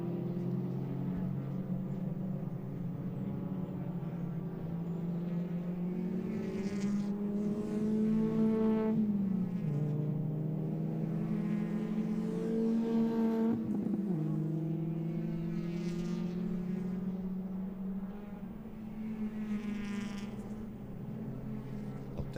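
Race cars circle a circuit in an ICCR 2025 round, with the Murray Motorsport car in the pack. Engine notes rise and fall as the cars shift and pass, and the droning pitch sweeps repeatedly at a moderate distance.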